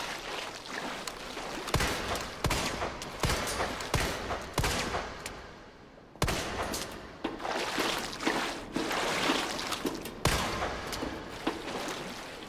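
Rapid gunfire bursts from Resident Evil 2 Remake, repeated sharp shots layered over dense, busy game noise, loud and continuous throughout.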